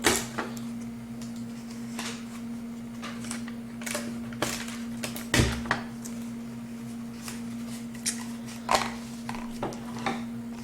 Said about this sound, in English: And tape this up. 3 pieces of tape, one on either side, one in the middle.